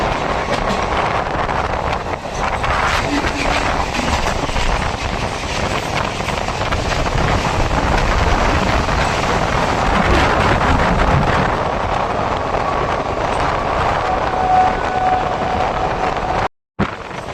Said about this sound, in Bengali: এই মুহূর্তে আমাদের ট্রেন প্রবেশ করছে ইচ্ছাপুর স্টেশনে গিয়ে।